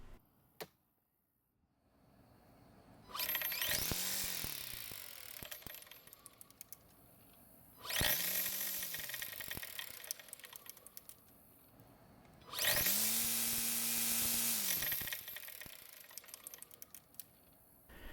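A GreenWorks electric string trimmer fitted with a universal trimmer head, run up three times in short bursts: each starts with a rising whine, holds a loud buzzing spin, then winds down, with quiet pauses between.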